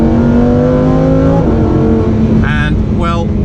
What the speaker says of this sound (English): That V10 sounds even more crazy than before.